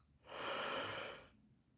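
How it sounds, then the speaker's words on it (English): A single long, breathy yawn from one person, close and soft, swelling for about a second in a quiet room before fading out. "Ooh, that was two yawns."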